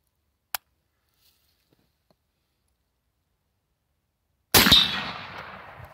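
A suppressed M1 Garand rifle, its grenade launcher mount carrying the suppressor, fires one loud, sharp shot near the end with a short decaying tail, after a faint click earlier on.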